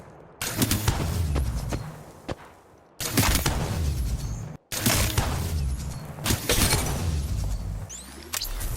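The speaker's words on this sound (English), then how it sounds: "I'm taking shots. Opening fire." Bursts of rapid gunfire and booming impacts from a video game shooter come in three loud dense stretches separated by brief gaps, with whooshing effects mixed in.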